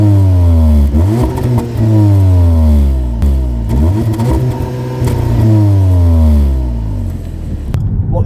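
The exhaust of a 2019 SEAT Cupra Ateca with a 300-horsepower 2-litre TFSI petrol engine roars through repeated loud revs, each rising and falling, recorded close up with no voices.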